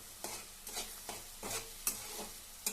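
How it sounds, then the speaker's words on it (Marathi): Spice masala sautés in oil for a rustic egg curry, with a soft sizzle under regular spoon stirs that land about twice a second, close and fairly quiet. "सर्व मसाला मी तेलामध्ये टाकून घेतलेला आहे. आता आपल्याला चांगलं परतून घ्यायचंय."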